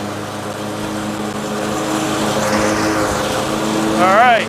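An engine opened up to full throttle, a steady loud roar that swells toward the end with a rising whine, while someone says a few words over it.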